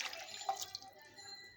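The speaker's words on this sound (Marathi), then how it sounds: "पीठ लावून हे बोंबील चांगले धुवून घ्यायचे।" Bombay duck fish being washed by hand in lukewarm flour water, with faint, close drips and small splashes of water in an otherwise quiet setting.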